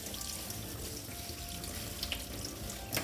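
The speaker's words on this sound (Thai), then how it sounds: "ต้องล้างออกล้างเกลือล้างเกลือออกมันจะเค็มตอนไม่ล้างอ่ะ" Water runs steadily from a tap into a sink as salt is rinsed off carp being prepared for fermented fish, a continuous close splashing flow with no talking.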